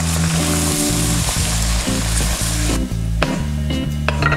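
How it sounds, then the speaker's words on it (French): Eggs scramble in a hot oiled pan while making shrimp and sausage fried rice. A loud, continuous sizzle runs under rhythmic stirring strokes, close up and with no talking. "je vais venir faire cuire mes œufs. Que je vais mélanger comme ça"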